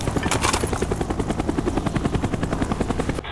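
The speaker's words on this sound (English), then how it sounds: "Enemy spy plane above." Enemy spy plane in Call of Duty Black Ops multiplayer flying overhead, a loud continuous rotor-like thrumming with fast rhythmic pulsing that holds steady throughout, with no talking.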